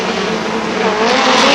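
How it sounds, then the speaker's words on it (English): Racing motorcycles roar off the line at a drag strip during a 1992 Labour Day meet at London Motorsports Park, a loud, dense engine blast that swells briefly as they launch. "Racing motorcycle action continues."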